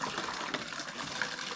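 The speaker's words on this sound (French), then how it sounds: "je vais refaire un bain avec de l'eau du robinet" Tap water running steadily into a bath being filled for cleaning motorcycle and car parts in an ultrasonic tank, a continuous close gushing splash at even volume.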